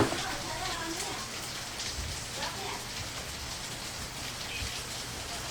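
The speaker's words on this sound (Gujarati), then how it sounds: "જોઈ શકો છો મિત્રો, ફૂલ વરસાદ છે, ફૂલ." Steady, dense monsoon rain in Banaskantha, Gujarat, pours down on a surface, a broad continuous hiss with scattered drips, no voices heard.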